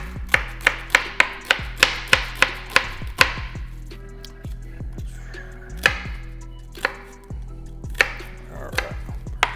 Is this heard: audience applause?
no